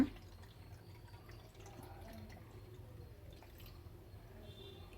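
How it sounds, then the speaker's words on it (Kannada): Water trickles and drips into a tight-necked glass bottle, a soft, steady, fairly faint filling sound that runs continuously without talk. "ಇವಾಗ ಇದಕ್ಕೆ ನಾವು ಇಷ್ಟು ನೀರು ಹಾಕ್ಕೊಳ್ಳೋಣ"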